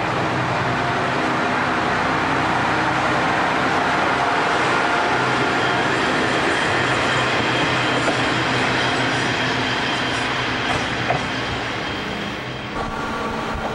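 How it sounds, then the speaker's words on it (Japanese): A Sanriku Railway train on the North Rias Line pulls out of Rikuchu-Noda station with a continuous, close rumble of wheels and engine, steady throughout and easing slightly at the end. "列車は陸中野田駅を後にします。"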